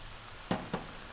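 Two short bursts of sizzling from vegetables stir-frying with a little added water in a hot pan for yakisoba, each a quick hiss and crackle, close by, with a low steady background between them.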